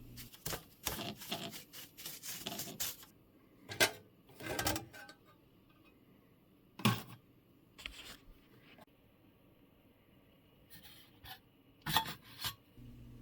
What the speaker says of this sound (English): I'm brushing dust